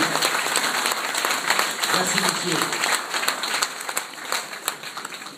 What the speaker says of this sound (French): Je crois qu'on peut les applaudir très très fort.